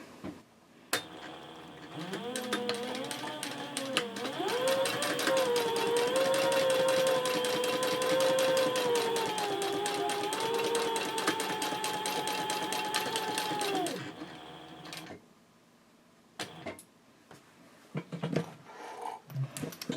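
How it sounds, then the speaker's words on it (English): A sewing machine top stitches a Bellezza handbag in one long, steady run of about twelve seconds, its hum shifting slightly in pitch. Brief handling noises follow once it stops. "I'm just going to go ahead and do that top stitching."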